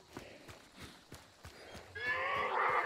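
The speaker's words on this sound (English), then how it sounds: "that horse did not fucking care that I ran through it" A horse in a video game neighs loudly near the end, after a run of steady clip-clop hoofbeats.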